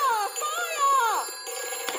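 A cartoon fire phone rings with bright warbling electronic tones that swoop and slide over about two seconds, loud and close, with a voice and light chatter around it.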